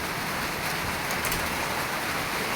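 Steady rain falling, a dense even hiss of drops on surfaces with no voices.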